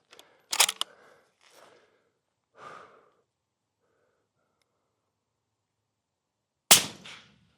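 A rifle shot cracks loudly near the end, preceded by an earlier sharp report and faint breathing and handling sounds, with quiet stretches between.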